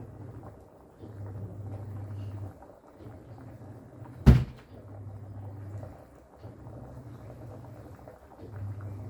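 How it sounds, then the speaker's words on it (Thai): A single sharp door bang closes in a home kitchen while soup is being cooked, standing out once over a low steady hum and faint ambient noise. "เดี๋ยวย่าปิดประตูก่อน"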